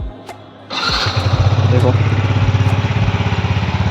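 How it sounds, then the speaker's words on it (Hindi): A motorcycle fires on a single press of its electric self-starter and settles into a steady, throbbing idle close by, with someone speaking briefly just before it catches. "स्टार्ट हो गई, सिंगल सेल्फ स्टार्ट हो रही है, कोई चक्कर नहीं पड़ रहा है इसमें।"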